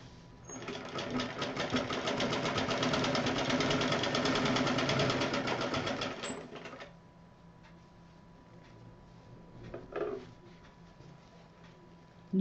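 Sewing machine stitching together the two halves of a homemade fabric purse, a steady rapid needle chatter running for about six seconds before stopping, followed by faint handling noises and a brief soft clack.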